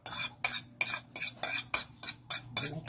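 A spoon stirs a soy sauce filling for siopao in a bowl, making about eight regular scraping, clinking strokes roughly every third of a second, close up and alone.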